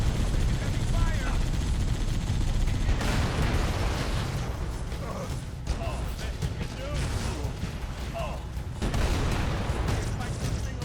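Heavy gunfire in Halo: Combat Evolved, continuous dense battle noise with rapid shots and bursts, loud and steady throughout the clip.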